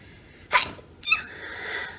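A single close sneeze: a sharp inhale followed by a quick explosive burst, then quiet breathing.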